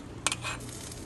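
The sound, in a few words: stirring chicken gnocchi soup in a pot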